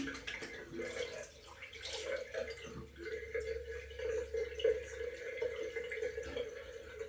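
Cold water runs steadily from a tap and splashes as a face is rinsed after a wet shave with a vintage German razor from around 1910, a continuous close trickle and splash.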